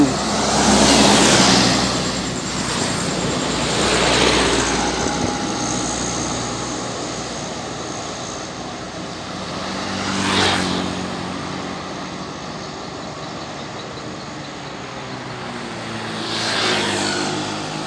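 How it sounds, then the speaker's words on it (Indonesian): Sinabung Jaya bus passing on a road, heavy engine roar swelling and fading in several loud passes, with traffic rumble throughout and no talk. "Bus Nabung Jaya."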